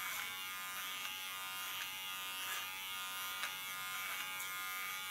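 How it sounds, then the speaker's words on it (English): Electric hair clipper cutting fine hair while a comb guides the strands, a steady close buzzing hum that runs continuously with slight changes in pitch as it passes over the hair, with no talking. "Let my comb guide the hairs into the clipper."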